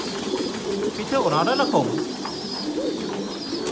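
Thai Titan pigeons, a breeding pair, give a few low rolling coos close by while someone talks over them.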